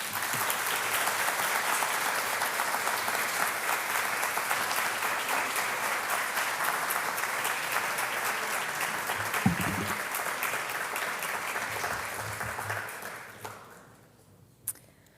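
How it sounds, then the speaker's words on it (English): Audience applause welcoming the next speaker at the 2025 Jacalyn and William P. Egan Lecture, steady and dense from a large crowd, continuing for about thirteen seconds before fading out, with a brief knock at the end. "please help me give a round of applause to our next speaker, Laura Bergemann."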